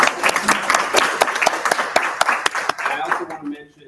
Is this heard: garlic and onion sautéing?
no